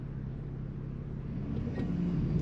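A loud aftermarket exhaust on a nearby car idles at a red light, giving a steady low rumble with no talking over it.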